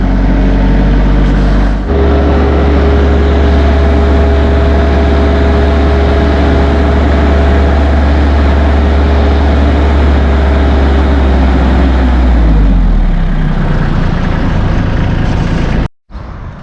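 A Massey Ferguson 1M.25 compact tractor with a 24.8 hp engine, platform hydrostat model, runs steadily up close with a loud low drone that shifts pitch around two seconds in, settles lower near fourteen seconds, and cuts off abruptly at the end.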